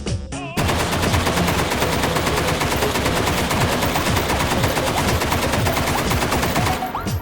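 Rapid automatic gunfire from a firearm held one-handed in the VR shooting game H3VR, a loud continuous burst of sharp shots lasting about six seconds.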